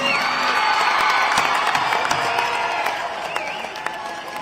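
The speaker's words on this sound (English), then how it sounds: "please give a thunderous round of applause for this performance" An audience at an Indian Navy symphony concert applauds after a performance, with cheering, whoops and shouts over the clapping, loud at first and easing slightly toward the end.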